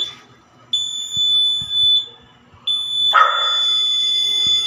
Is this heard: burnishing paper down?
no